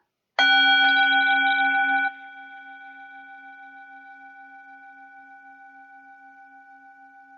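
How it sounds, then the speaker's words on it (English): A single meditation chime strikes once, loud and bright with a clear ringing tone, then settles into a long, steady fade that hums on quietly to the end, alone in a silent room. "listen very carefully to the chime"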